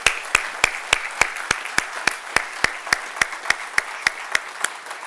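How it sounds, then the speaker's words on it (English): At a graduation salute ceremony, one sharp, regular clap repeats steadily about every third of a second, close and distinct against a soft background of wider crowd applause. "let's give all of our graduates one big round of applause"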